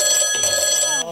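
A telephone bell rings continuously as a stage sound effect during a school play, a bright rapid trilling ring that stops abruptly near the end, heard loud in a hall.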